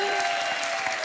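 Studio audience applauding on a French dating game show, a dense, even wash of clapping that stays loud and sustained throughout the short burst.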